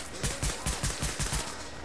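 A rapid string of gunshots fired in The Division video game, about ten evenly spaced sharp cracks in quick succession, moderately loud and with no talk over them.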